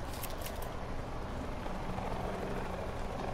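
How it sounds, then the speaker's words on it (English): Helicopter in the Call of Duty Black Ops 4 Blackout battle royale mode, a steady broadband rotor-and-engine drone held at one level throughout, with a brief hissy burst at the very start. "Oh, a helicopter, not a supply drop."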